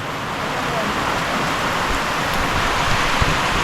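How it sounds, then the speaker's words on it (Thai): Heavy rain pours steadily onto a hut in the mountains beside rice fields. It makes a dense, even hiss that lasts the whole clip, with nothing else standing out. "ฝนกำลังตกเลย ตกแรงด้วยครับผม"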